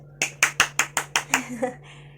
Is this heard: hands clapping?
yes